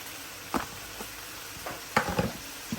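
Vegetables tossed and stirred in a hot frying pan for pancit bihon, with a few separate scraping stirs and soft sizzling bursts against a quiet background hiss.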